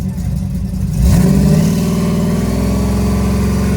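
Car engine revved hard while the brake is held, rising abruptly from a steady idle into a loud, sustained high-revving roar that holds on at a constant pitch, close by.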